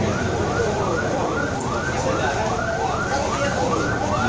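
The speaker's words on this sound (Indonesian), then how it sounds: "Pemadam kebakaran tiba lagi, satu kendaraan lagi yang didatangkan." A fire truck siren wailing in quick repeated rising-and-falling sweeps as the engine arrives at a fire in Jalan Hasan Saleh, Neusu, Aceh, loud and close over a rumbling street background.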